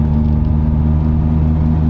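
A 40-horsepower vintage Simca 8 from about 85 years ago drives gently, its engine giving a steady, loud low hum with a constant droning tone and no voices.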